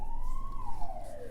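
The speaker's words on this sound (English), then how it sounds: "And there are the sirens. I don't know if you can hear them." A single siren wail rises and falls clearly in the distance over low background rumble, brief and moderately loud.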